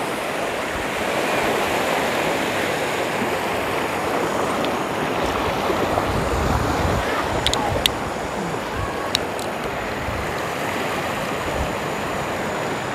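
A rocky mountain stream rushes steadily around someone wading through it, a broad continuous roar of flowing water with a few faint sharp clicks.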